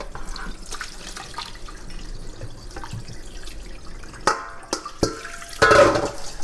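Glass noodles rinsed under running water in a strainer in a kitchen sink, a steady trickle and drip with a few sharper splashes and gushes near the end.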